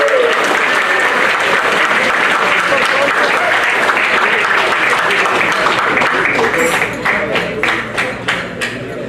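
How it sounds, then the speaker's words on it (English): Loud, full-room applause from a banquet audience, a thick wash of clapping that thins into a few scattered, separate claps toward the end. "give a round of applause for Coach Mike Donnelly"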